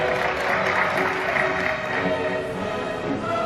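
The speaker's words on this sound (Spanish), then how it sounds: "esto se merece un aplauso" Applause from a meeting audience after a vote on environmental measures, a steady wash of clapping that holds evenly at moderate loudness for the whole stretch, with no voices over it.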